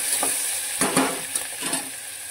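Vegetable mixture stirred in a pan while cooking, with a few scraping strokes spread across a steady frying sizzle, close and moderately loud, no voices.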